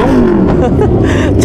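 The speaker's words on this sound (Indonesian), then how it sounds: "hyperbike. Ribuan cc lewat jalan blegedes." A big hyperbike motorcycle of over a thousand cc rumbles past on a rough, bumpy village road, its engine loud and close with a revving pitch sweep, while excited onlookers shout nearby.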